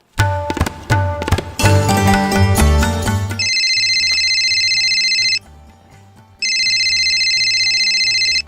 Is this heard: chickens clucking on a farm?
no